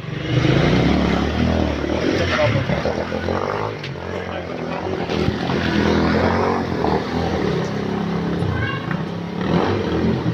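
Motorbikes ride through a rain-flooded street, giving a loud, steady engine roar with water wash that runs the whole time and swells now and then as machines pass close by.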